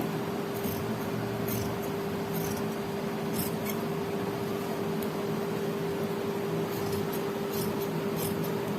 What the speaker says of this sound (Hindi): एक पॉइंट छोड़ के मैं कपड़ा काट रही हूँ